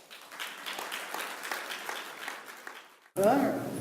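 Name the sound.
audience applause for speaker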